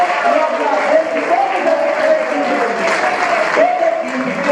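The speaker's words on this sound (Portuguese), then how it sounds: "Eu gostaria de pedir aos outros colegas que estão aqui uma salva de palmas." Applause from an audience at an association's second-anniversary event, steady and sustained throughout, with a tonal voice or music line running underneath the clapping.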